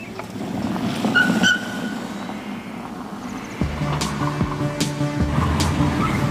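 A car accelerates hard on a test circuit, its engine loud and close as it drones and then surges into a stronger, rising roar partway through.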